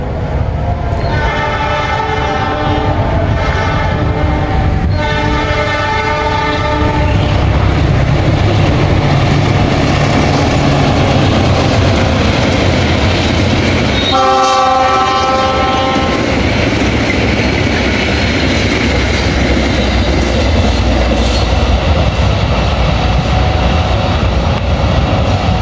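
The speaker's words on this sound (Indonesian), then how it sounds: "Kereta api Argo Wilis baru saja melintas langsung di stasiun Rancaekek" The Argo Wilis express train roars past through Rancaekek station at close range, a loud horn blaring in long tones near the start and again midway, with steady rumbling wheels throughout.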